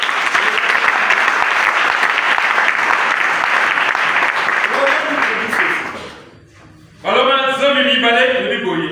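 A church congregation bursts into loud, dense applause that rolls on for several seconds, thins and fades out, then a preacher's voice takes over.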